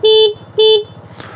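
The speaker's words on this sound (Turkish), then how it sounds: "Kornası." Two short, bright horn toots from a Honda SH 125 scooter, each about a quarter second, separated by a brief gap, close and loud over a low idling engine rumble.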